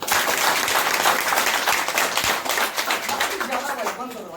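A seminar crowd claps loudly and densely, a strong continuous burst of hand claps that tapers slightly toward the end as a voice starts to speak.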